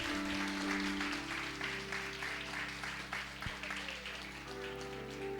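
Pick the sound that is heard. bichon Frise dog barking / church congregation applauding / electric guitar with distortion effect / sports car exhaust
church congregation applauding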